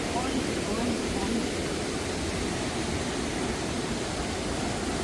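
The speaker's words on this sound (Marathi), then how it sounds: "धबधबा आहे त्याच्यावर धबधबा आहे, त्याच्या खाली धबधबा आहे" A waterfall pouring beneath a glass bridge makes a constant, dense roar of rushing water, steady and loud throughout without any break.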